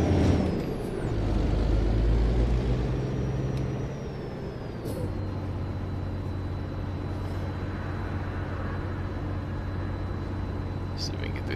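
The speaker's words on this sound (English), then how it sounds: "I really like the way this truck sounds" Heavy wrecker truck in American Truck Simulator, a steady deep engine drone with a higher whine above it. An air-brake hiss comes early on, then the engine settles to an even idle-like rumble, with talk over it.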